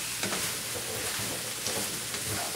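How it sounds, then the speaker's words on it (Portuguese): Eggs being beaten in a pan for a home Easter Sunday lunch, a busy scraping, whisking texture that runs steadily with small rhythmic bursts, close and moderately loud, with no talking. "Eu vou bater os ovos."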